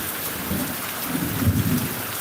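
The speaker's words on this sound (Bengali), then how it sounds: "মেঘের শব্দ মাঝে মাঝে ভেসে আসছে" Heavy rain pours in a dense, close roar while low thunder rumbles and swells beneath it.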